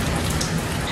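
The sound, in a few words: heavy rain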